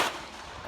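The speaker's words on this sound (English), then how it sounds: "And let's get the follow-up shot into the head." A single shot from a SIG P320 pistol fitted with a fire control unit: a sharp, fairly faint report right at the start that quickly fades into a low, dull tail.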